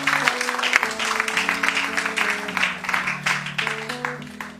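A church congregation claps and cheers, acclaiming Jesus, with steady rhythmic applause over sustained organ-like keyboard chords lasting several seconds.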